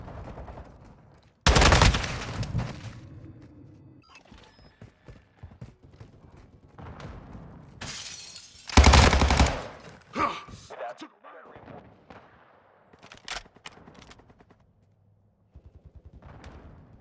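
Bursts of automatic gunfire in Call of Duty Modern Warfare 2 multiplayer, two loud close volleys separated by quieter scattered shots and battlefield clatter, with brief voices in the mix.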